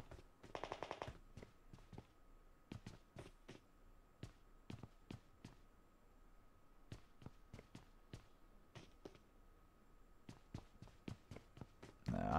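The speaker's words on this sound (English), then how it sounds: "that's bot fire right there" Bot gunfire in PUBG Mobile crackles as a quick burst of automatic shots followed by scattered single and paired shots, steady and fairly distant, with faint footsteps between.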